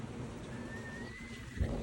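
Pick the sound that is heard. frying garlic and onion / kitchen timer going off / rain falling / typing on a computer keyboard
rain falling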